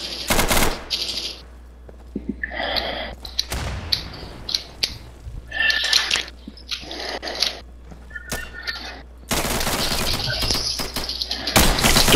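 Submachine gun fire in the video game Insurgency rattles out in several short, sharp bursts amid other gunshots and battle noise, with brief quiet gaps between volleys.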